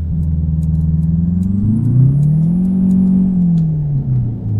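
Mercedes 190E car mod in American Truck Simulator, its engine droning loud and steady with rising and falling revs and a faint whine above, close and without talk.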